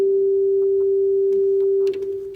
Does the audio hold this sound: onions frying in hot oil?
no